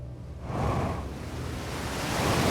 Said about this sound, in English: Oops, no, I didn't mean to fly into the waterfall.